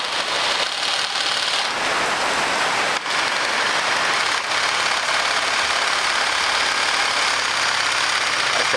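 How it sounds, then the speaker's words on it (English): A Sawzall reciprocating saw cuts into a cutlass bearing inside a ship's stern tube, producing a loud, continuous buzzing rasp with a brief dip partway through. "I tried for a long while to get the cutlass bearing out with the saw, the reciprocating saw"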